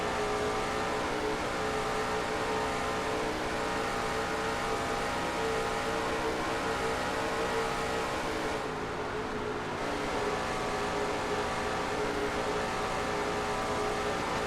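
A race car engine roars without a break from a roof camera in the cockpit during a Castrol GTX Cup Series race, loud and close under wind rush, holding a steady high drone with a brief dip in the middle.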